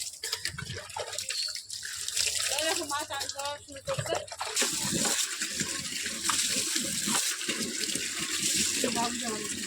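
Water splashes and pours as someone is bathed at home, with someone talking over the sloshing and running water throughout.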